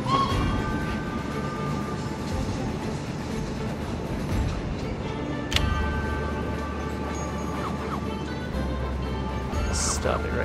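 A heavy freight train rumbles steadily in the railway game Conduct DELUXE, a continuous low drone with faint ticking and a brief clank partway through, heard under a speaking voice.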